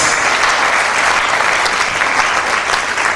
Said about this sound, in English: I'm going to insist that we give her yet another resounding applause